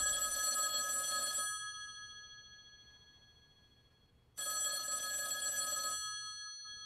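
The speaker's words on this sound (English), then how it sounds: "that phone over there is gonna ring" An old-style telephone bell rings loudly in two long bursts with a quiet gap between them, in a tense crime-thriller setting, with no talking over it.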